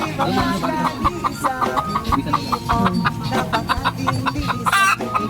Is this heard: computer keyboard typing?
no